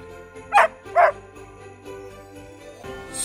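A black-and-white border collie barks twice in quick succession, moderately close, over a soft background hum, then goes quiet.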